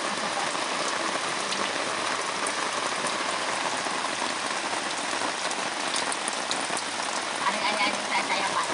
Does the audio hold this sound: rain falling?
yes